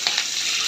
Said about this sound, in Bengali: শুকনো মরিচ ভাজা হয়ে গেছে। এখন পেঁয়াজ কুচি দিয়ে দিবে।